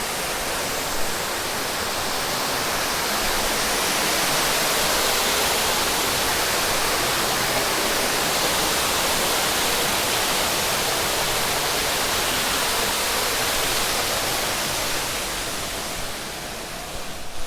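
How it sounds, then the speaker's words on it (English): A rock waterfall feature at a resort pool in Orlando pours down as a constant, close, loud rush of falling water, without pause, and eases off only slightly at the very end. "we're gonna walk under this rock waterfall feature"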